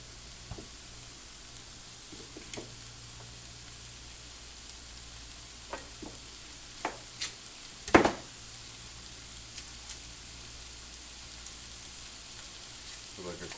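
Butter and mushrooms sizzle gently and steadily in a frying pan, heard as a faint, even hiss broken by a few light clicks and one louder utensil knock partway through.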